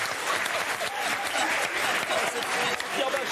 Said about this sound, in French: Jean-Luc Lemoyne, applaudissements pour lui.